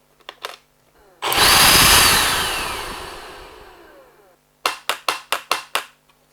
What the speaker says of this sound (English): the tapping is provided by this little hammer here